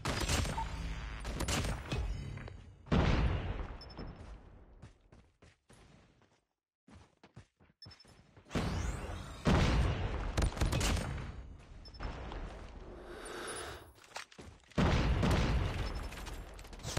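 Video game gunfire comes in loud, close bursts of rapid shots and sharp single cracks, broken by brief quiet pauses.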